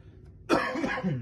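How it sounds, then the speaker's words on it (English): A single sharp cough bursts out after a quiet moment, close and loud, trailing into a rough throaty tail. "I still have this cough"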